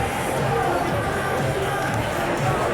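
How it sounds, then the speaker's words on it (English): Crowd gathered at an Andrew Yang town hall at Drake University in Iowa, a dense steady murmur of many voices filling the room with no single speaker standing out. "You want to see crowd? I show you the crowd."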